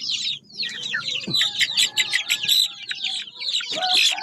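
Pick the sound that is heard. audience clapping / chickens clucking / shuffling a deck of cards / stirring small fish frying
chickens clucking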